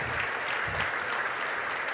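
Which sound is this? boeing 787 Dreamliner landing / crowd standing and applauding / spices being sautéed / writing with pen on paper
crowd standing and applauding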